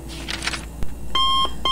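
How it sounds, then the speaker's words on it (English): An alarm beeps in a short sequence, bright electronic tones sounding twice after a brief hiss and click, close and clear with no talking. "The alarm went off."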